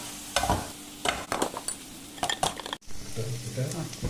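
Eggs for a Spanish omelette being beaten in a bowl, with irregular clinking and tapping strokes of a utensil against the side, close and moderately loud, no speech.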